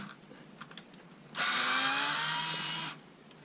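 Undoing tight screws on a Bosch delta sander: a single loud, steady whirring burst of about a second and a half, with a rising whine, over a quiet room with faint handling clicks before it.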